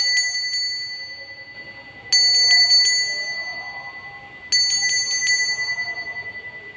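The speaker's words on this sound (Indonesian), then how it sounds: "kita akan memulai dengan ditandai lonceng berbunyi" A bright, high bell rings in three quick bursts of several strikes each, every burst fading slowly before the next, over a quiet hum.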